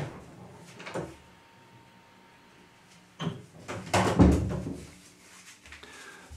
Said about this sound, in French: Comment savoir ouvrir une porte?